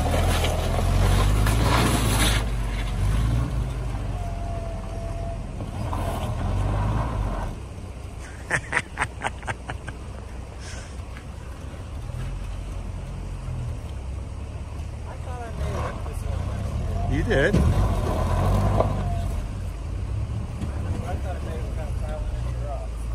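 Willys Jeep climbing an off-road trail between Buena Vista, Taylor Park and Aspen: a low engine rumble with bumps and clatter, quieter stretches in between, and people talking over it.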